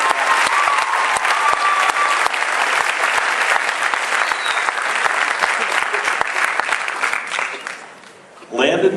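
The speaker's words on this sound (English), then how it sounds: "those two down there, they deserve another round of applause because they've been here through it all" A crowd at a high school National Signing Day event gives sustained applause for athletes, dense, loud clapping that fades briefly and then swells again at the end.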